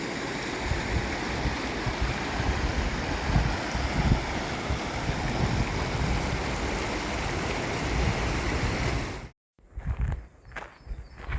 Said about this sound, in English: This is Whitney Creek right at the ranger station.